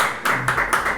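A brief burst of applause for a person being introduced, a dense wash of clapping hands with a few louder surges. It is fairly close, with no voices.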